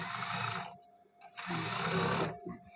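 A sewing machine stitches a back-slit shirt collar in two short whirring runs separated by a pause, close and fairly quiet.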